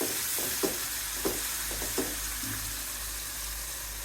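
Sliced green chillies fry softly in a pan of winter vegetables with salt, a few scraping stirs rising over a quiet, steady sizzle.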